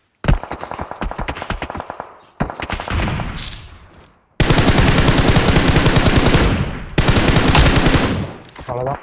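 Rapid bursts of AMR sniper rifle fire in the BGMI battle royale game ring out loud and close, several sustained volleys separated by short gaps, with a voice briefly audible underneath.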